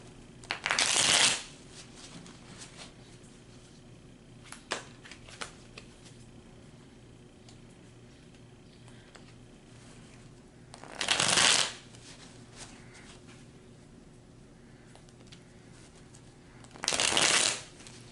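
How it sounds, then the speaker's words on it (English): A deck of cards is shuffled in three short, crisp riffle bursts spaced apart, with quiet room tone and faint handling noises in between. "let me go ahead and shuffle these some more."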